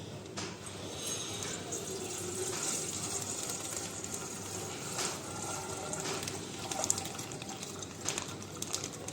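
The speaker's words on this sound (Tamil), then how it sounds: "பாத்திரத்தில் ஊற்ற போகிறோம்." Milk poured from a cut plastic packet into a cooking vessel in a home kitchen, a steady liquid splashing and trickling that runs continuously at moderate level with a few sharper splats near the end.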